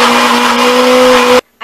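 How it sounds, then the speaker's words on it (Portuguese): A loud blender mixing kale and shampoo whirs steadily with a strong motor hum, then abruptly cuts off, followed by a brief quiet pause and a soft noise. "desliga o liquidificador, desliga até da tomada pra não ter risco."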